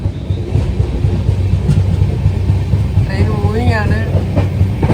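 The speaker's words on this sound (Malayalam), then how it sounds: "ട്രെയിനിപ്പോൾ നമ്മുടെ നാഗർകോവിൽ ജംഗ്ഷനിൽ നിന്ന് ട്രെയിൻ എടുത്തിട്ടുണ്ട്. ട്രെയിൻ മൂവിങ് ആണ്." The Kanyakumari to Varanasi Express rumbles steadily after leaving Nagercoil Junction, a low, rhythmic roll and rattle, loud and constant, with a brief voice heard over it near the end.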